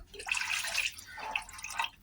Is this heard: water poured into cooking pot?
yes